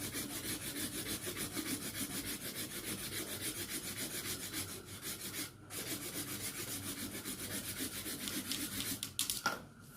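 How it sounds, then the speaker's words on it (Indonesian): Steady, continuous scraping of sandpaper rubbed back and forth along a bamboo frame for an Aceh fighting kite, close and even throughout with no talking. "Kita gosok agar bambunya lebih lembut,"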